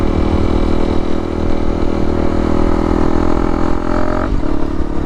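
Close by, a Honda CRF300L motorcycle with a 550 Exhaust system, baffle installed and stage 1 ECU flash, runs at a loud, steady idle, then a quick throttle blip near the end.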